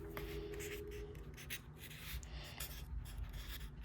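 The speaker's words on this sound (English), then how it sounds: "on the sides of my packages, I like to write live plants." A marker scratches lettering onto the side of a white cardboard shipping box, soft close-up rubbing strokes in short bursts, quiet and unaccompanied by speech.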